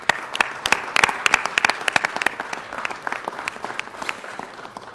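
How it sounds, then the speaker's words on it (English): An audience at a Los Angeles civic ceremony honoring an Armenian musician gives a round of applause, with crisp, scattered claps that start strong and settle into a steady patter. "Would you please help me by giving him a round of applause?"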